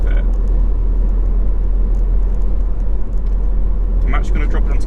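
A manual car running in sixth gear on a flat road labours with a low, steady engine drone and road rumble, loud and close, with a voice talking over it.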